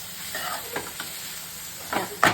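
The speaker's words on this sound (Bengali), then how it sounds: "গরম ভাতের সঙ্গে এরকম চিংড়ি মাছ ভাজা" Shrimp fry in a hot pan, a continuous sizzle broken by scraping strokes of a spatula and a sharper clink near the end.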